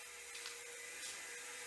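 A power saw cutting ceramic floor tile for a doorway installation, a steady high-pitched whine held throughout at moderate distance, with no talk over it.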